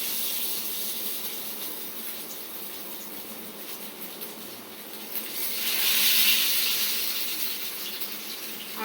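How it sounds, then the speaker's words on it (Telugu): Fish frying in hot oil, a steady close hiss and crackle that swells louder for a stretch in the middle before settling back, with no voices. "ఇప్పుడు నేనైతే ఫిషెస్ వేస్తున్నాను. చూడండి సౌండ్ వస్తుంది మనకి మంచిగా."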